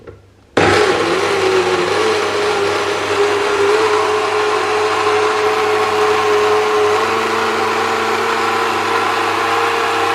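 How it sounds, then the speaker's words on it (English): A kitchen blender whirs loudly and steadily, processing hot cooked food, starting abruptly and running continuously with a constant motor whine and no talk. "And then I'm going to put it on the blender."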